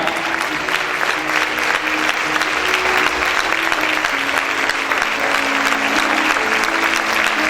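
Church congregation applauding during worship, continuous loud clapping from many people filling the room, with a sustained tonal musical backing underneath.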